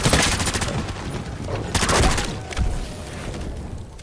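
Rapid weapon fire while shooting zombies in Call of Duty MWZ, loud volleys of shots rattling in close bursts, with a sharper cluster near the middle before trailing off.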